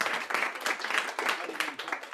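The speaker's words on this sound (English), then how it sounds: "so round of applause for that." Applause at an English schools conference in Japan, a smaller group clapping with distinct uneven bursts, fairly faint and somewhat sparse, with a faint murmur of voices underneath.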